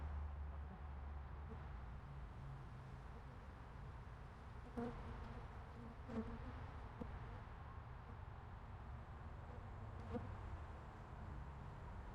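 Honey bees buzz steadily around an opened hive during a honey harvest, a dense low hum that stays even throughout, with a few faint clicks and taps from brushing bees off the frames.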